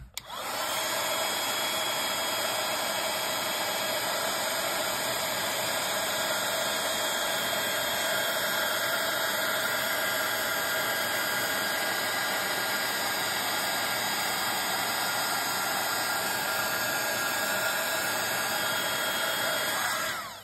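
A heat tool blows steadily on a painted tile to heat-set the paint, a loud continuous fan-and-heater roar with a high whine that holds unbroken for about twenty seconds, alone and close.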